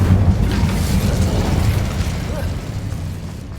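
Incendio fire spell cast in Hogwarts Legacy, a loud, sustained whooshing roar of flame that holds steady for a few seconds and slowly eases off.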